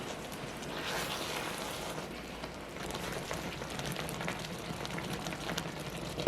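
Ground tomato simmering under a lid in a pot, a soft, steady bubbling hiss that holds at a low, even level throughout with no voices.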